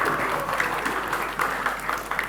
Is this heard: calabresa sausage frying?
no